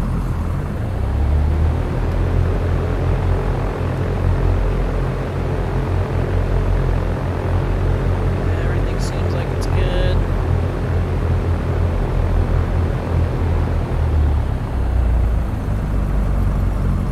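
Steady, loud drone of an airplane engine in a flight simulator game during takeoff, a constant low rumble that holds without a break throughout, with a brief faint chirp partway through.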